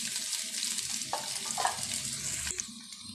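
Potatoes dropped into onions frying in a pan send up a steady, hissing sizzle, with a few soft clinks and stirring scrapes close by, no talking.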